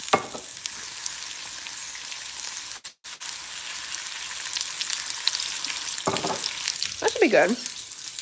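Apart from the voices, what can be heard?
food frying and sizzling in oil in a pan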